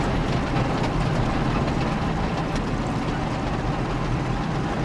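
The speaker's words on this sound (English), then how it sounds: "I've made a sound mod where I've made some adjustments to the engine sounds for the German" Modded German Tiger and Panther tank engines in the Tank Squad video game give a loud, steady low rumble with a broad roar. It holds constant throughout, with no talk over it.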